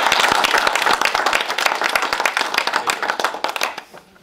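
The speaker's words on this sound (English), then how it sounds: "give him a round of applause" A round of applause from attendees at a local government board meeting, a smaller group clapping with distinct individual hand claps, loud and close, fading out toward the end.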